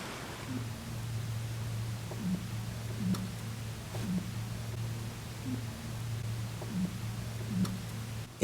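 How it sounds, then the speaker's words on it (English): Frozen lake ice shifting and singing in winter, with scattered faint pings and cracks over a steady low hum and soft background hiss. "It's the noise of the ice shifting."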